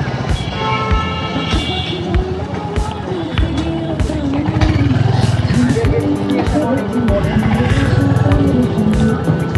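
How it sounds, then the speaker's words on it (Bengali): A Royal Enfield Hunter 350 motorcycle is ridden at speed on the road, its engine droning loud and close with rushing wind and road noise, while a rider talks over it throughout. "আর এমন যদি একটু ইয়ে করি, একদম বাইকটা ভাগছে কীরকম যেন।"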